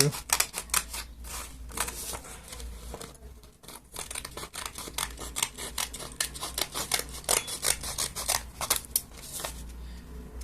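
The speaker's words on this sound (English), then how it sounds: "we're gonna start off by cutting this thing we just drew." Scissors cutting through paper while shaping a paper mask, a run of quick close snips and crisp paper rustles in an uneven rhythm, with no talking.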